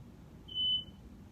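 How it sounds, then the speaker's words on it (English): A smoke alarm gives a single short electronic chirp in a quiet room, clear and moderately loud, lasting about half a second with no talk around it. "My fire alarm has been going crazy lately."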